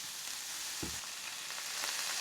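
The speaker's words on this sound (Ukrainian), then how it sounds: "Обсмажувати буду я її, нагрів майже максимальний до 5 хвилин." Shredded cabbage fries in a pan over near-maximum heat, giving a steady, loud sizzle and crackle throughout with one short soft clunk from a utensil.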